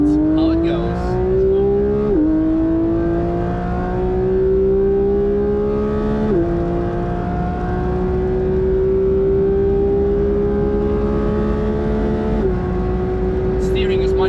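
A Porsche GT3 fitted with a racecar handling mod laps the Nürburgring, its engine loud and close from inside the cabin, pitch climbing steadily through each gear with sharp drops at three upshifts.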